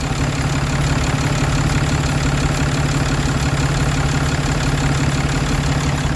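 A 2018 Cummins diesel engine idles steadily up close, a loud continuous low rumble with a fine regular knock and the EGR valve working, no talk over it.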